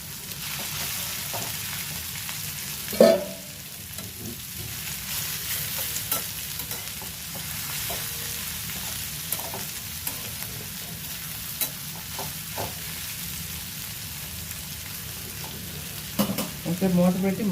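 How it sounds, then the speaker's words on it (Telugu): Bitter gourd and plenty of sliced onion frying in a pan, a continuous close sizzle with occasional scraping stirs and a sharper clatter near the start and end, no talking. "ఇదిగోండి ఇలా వేగుతున్నాయి."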